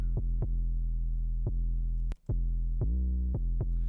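An 808 bass in a lo-fi hip hop beat built in Ableton Live sustains deep tones and glides between notes with portamento, punctuated by several sharp percussive hits and a brief drop-out near the middle, with no voices.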